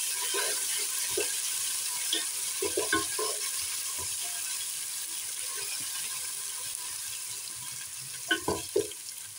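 Garlic paste and gram flour are stirred in a pan for an aloo tihari potato dish, giving a steady low sizzle with scattered scraping strokes and a few louder spoon knocks near the end, no talking.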